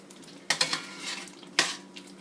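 Diced cooked ham going into a pot of popping sofrito for arroz con gandules: sharp clanks of a utensil against the pot over a crackling sizzle, with two louder knocks about a second apart.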